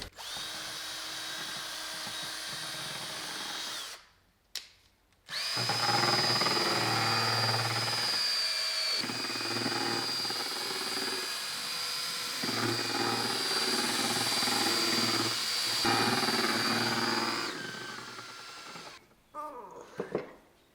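A Ryobi power drill with a mixing paddle stirs epoxy in a garage, whirring loud and close for long sustained runs with brief pauses and small changes in speed, ending with a few knocks.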